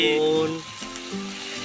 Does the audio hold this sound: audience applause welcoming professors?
no